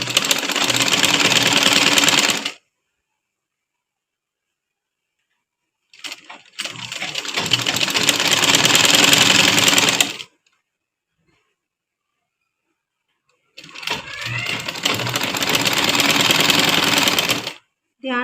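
Sewing machine stitching piping cord with buckram, running in three loud sustained bursts of several seconds each, separated by silent pauses, with no talk over it.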